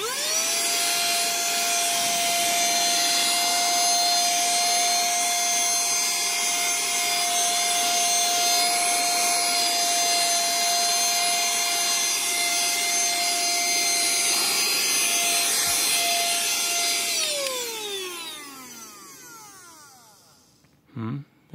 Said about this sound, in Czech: tak, jak jste mohli vidět, tak to vysává poměrně dobře